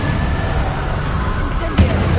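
Spell explosions from the video game Hogwarts Legacy, a muffled rumbling blast followed by a sharp burst with a short crackling tail, heard amid combat noise.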